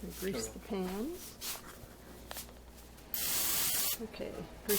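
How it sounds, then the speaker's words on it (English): Olive oil sprayed from a can to grease bread pans for sprouted wheat loaves, a steady loud hiss of about a second, with talk earlier. "Okay, greasing the pans with olive oil."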